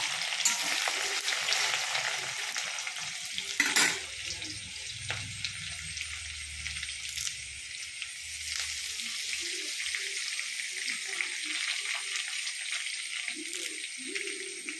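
Onion, ginger and curry leaves sizzle in a hot pan for oats upma, a bright continuous frying hiss with stirring scrapes and a few low clunks near the start, close and steady throughout.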